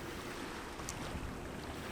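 A boat sailing along the river into Dartmouth, with a steady low wash of water and wind rushing against the microphone, no voices.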